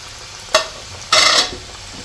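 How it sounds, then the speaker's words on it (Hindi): Samosas slide one by one into hot oil over a low flame, each drop setting off a brief crackle and then a louder burst of sizzling that fades, with no talking. "और अब एक एक करके इसमें छोड़ेंगे हमारे समोसे।"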